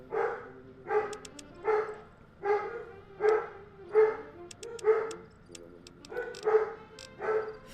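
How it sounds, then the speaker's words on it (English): A large dog in the game Fallout New Vegas lets out a series of squeaky, yelping howls, about a dozen evenly spaced high-pitched cries, loud and close with no talk over them. "Big ass dog like that, and his squeak howl."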